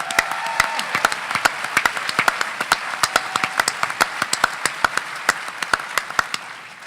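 An audience at a swearing-in ceremony applauds with a dense, steady run of claps from many hands, fairly close and sustained throughout.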